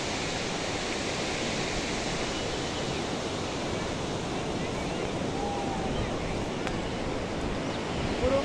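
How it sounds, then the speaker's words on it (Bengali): Sea waves breaking on the shore at Digha beach, a steady broadband wash of surf with wind buffeting the microphone, continuous and fairly loud throughout with no distinct individual breaks. "দেখো ঢেউ দিচ্ছে কেমন, যে কি সুন্দর লাগছে"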